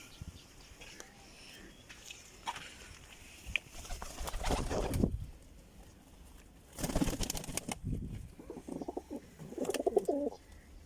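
Pigeons coo softly at a rooftop loft of high-flying pigeons with a perch, low repeated coos near and far, with scuffling and wing movement in a quiet outdoor setting.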